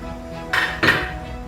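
Two quick metallic clanks as a lid is set down on a pot of Tom Yum Goong soup, sharp and close, a short double knock with no talk.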